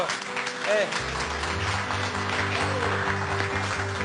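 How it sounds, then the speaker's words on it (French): Applause for a hotel-restaurant team rolls on as a steady patter of many hands, with music kicking in after the first second and continuing beneath the clapping. "qu'on peut applaudir aussi"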